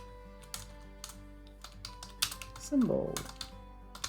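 Short bursts of keystrokes on a computer keyboard as a label is typed, with a speaking voice over them.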